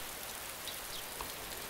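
Steady rain falls outdoors at night, a constant even hiss of drops on surfaces with no distinct pattern, moderately quiet and continuous throughout.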